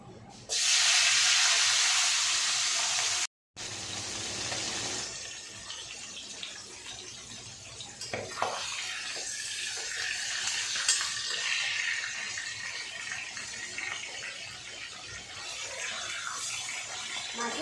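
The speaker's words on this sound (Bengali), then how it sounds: "এবার আমি মাথাগুলোকে ভেজে নেব" Rohu fish heads drop into hot oil in a wok, setting off a loud hissing sizzle that breaks off briefly, then settles into a softer, continuous frying crackle with occasional sharper pops.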